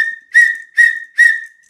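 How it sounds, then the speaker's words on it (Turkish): A whistle sounds three times in an even rhythm, each short loud shrill blast rising over a thin steady tone, close and alone with no talking. "Bu bir düdükmüş."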